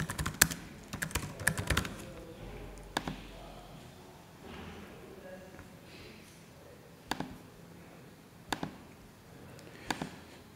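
Keystrokes on a computer keyboard entering a password, a quick flurry of close clicks at first, then scattered single taps after quieter gaps.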